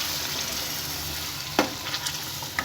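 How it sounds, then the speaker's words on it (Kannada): Paneer gravy masala with added water frying in a pan, a continuous soft sizzle and bubbling with a few light scraping stir clicks near the end. "ಹಾಕೊಂಡು ಇದನ್ನ ಕ್ಲೀನಾಗಿ ಫ್ರೈ ಮಾಡ್ಕೋಬೇಕು, ಬೇಯಿಸ್ಕೋಬೇಕು"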